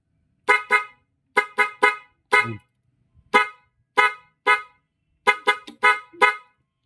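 Stock horns on a Yamaha Mio i 125 scooter sound in dual mode, giving a loud, close series of short honks in uneven clusters of two and three, with brief silences between bursts.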